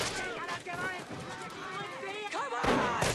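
Gunfire in a battle, rapid shots and blasts crackling loudly and continuously amid shouting voices and commotion, with a heavier burst near the end.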